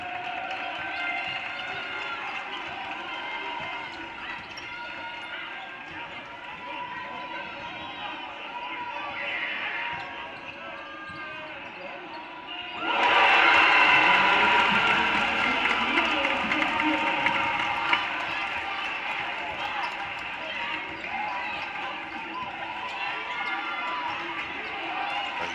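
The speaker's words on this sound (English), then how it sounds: "You hear that crowd?" Crowd noise fills a basketball arena during a March Madness state tournament game, a steady broad roar that swells abruptly louder midway and stays raised, with shoe and ball activity mixed in and voices talking over it.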